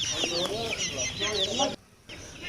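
Fancy chickens at a pet shop in Coimbatore cluck and chatter in repeated bursts of busy, fairly close calls, with light background noise and a brief quiet gap near the end.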